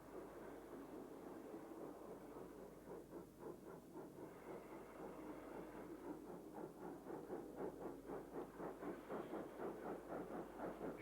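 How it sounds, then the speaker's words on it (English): Steam locomotive departing Leeds City Station's west end toward Bradford Forster Square, a steady hiss and rumble with rhythmic chuffing that grows more regular and pronounced as it pulls away, heard at moderate distance with no talk. "a sister loco departs from the west end to Bradford Forster Square"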